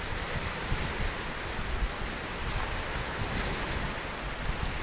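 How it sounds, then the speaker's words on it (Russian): Strong storm wind roars over crashing waves at a river or lake shore, a dense, continuous broadband rush with steady wind buffeting on the microphone and no voices. "Снова вот такой вот шторм."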